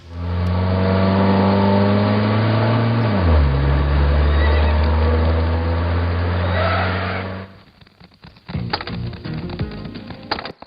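Horses whinny loudly over a sustained engine-like drone that dips in pitch, then the sound cuts to sparse, clattering noises near the end.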